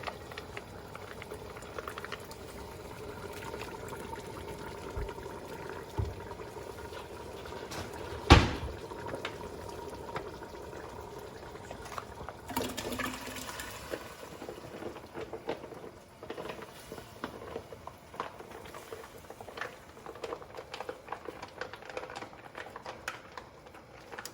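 Pasta sauce is squeezed and rolled out of bags into a pot, giving wet squelching and liquid trickles. A sharp knock lands partway through, and the sounds come close up and intermittent over a low background.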